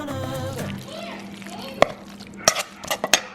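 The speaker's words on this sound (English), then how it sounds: "Stir it all together." A cream and mayonnaise mixture is stirred together in a dish. A voice comes first, then soft scraping, followed by several sharp clicks and knocks of a utensil against the dish.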